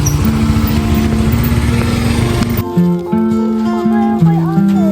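A motorcycle engine runs close by and steadily for the whole stretch, its droning tone shifting pitch partway through as it revs, with voices talking over it.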